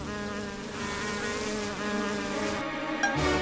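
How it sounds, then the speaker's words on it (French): Swamp wasps in an animated cartoon set in a marsh buzz steadily in a thick droning hum, close and continuous, with a brief dip and then a small knock near the end, with no voices. "j'ai failli oublier ces maudites guêpes des marais"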